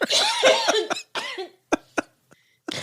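Several harsh coughs in a close burst, followed by a few sharper single coughs with short silences between them.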